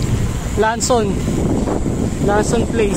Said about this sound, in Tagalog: Lakas talaga ng hangin dito sa may ano